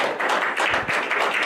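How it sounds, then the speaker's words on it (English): An audience applauds dancers at a mathematical dance performance with a steady, dense patter of many hands clapping at once, fairly close and continuous throughout. "we should give our dancers a round of applause"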